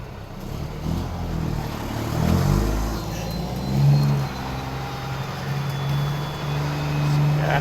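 A classic Peterbilt truck pulling Super B trailers drones through loud exhaust stacks. The deep engine rumble is heard from inside the cab and rises and falls with the revs.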